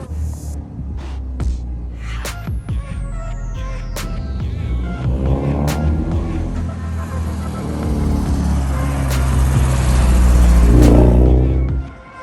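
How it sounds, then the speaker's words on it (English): Honda Civic EK coupe with a B20 VTEC engine on a test drive, heard from inside the car as the engine hums and revs up through the gears, growing steadily louder and peaking near the end before easing off. "We got Stevie JDM himself behind the wheel, going for a test drive"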